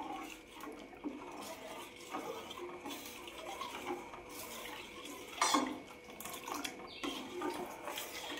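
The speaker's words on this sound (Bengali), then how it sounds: "একটু নাড়াচাড়া করে নিচ্ছি।" Milk is stirred in a pot on the stove, a quiet run of liquid swishes and light clinks of a utensil against metal, close but faint, with one sharper scrape near the middle and no talking.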